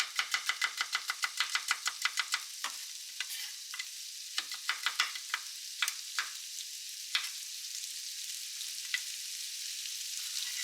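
Thin-cut carrot strips sizzle and crackle in a frying pan, with a run of quick stirring or tossing scrapes early on that thin out into scattered pops over a steady hiss.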